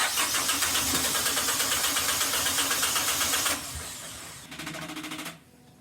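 Starboard engine on a sailboat cranking hard and failing to catch, a rapid, loud, rhythmic chugging that runs for several seconds, drops off, then resumes briefly before cutting out.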